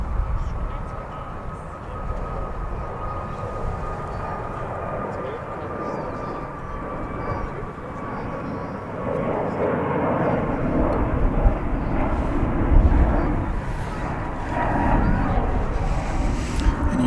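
An airliner on its takeoff roll from runway 36 right at DFW International Airport, bound for Phoenix, gives a steady broad engine roar that swells slightly toward the end, heard from a distance over continuous outdoor ambience.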